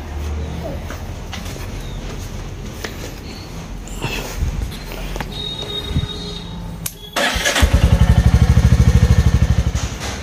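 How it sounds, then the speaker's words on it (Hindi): A motorcycle engine cranks and starts after some handling noises, then settles into a loud, rapid, even putter close by. "जो बाइक है उसको स्टार्ट कर लेता हूँ फटाफट"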